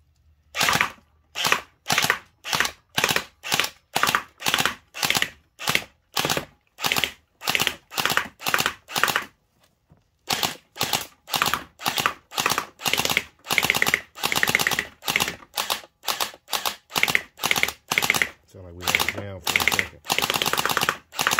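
Mini M249 gel blaster toy gun firing in rapid bursts of sharp, evenly spaced clicking shots, with a brief pause midway before another long run of loud close-up fire.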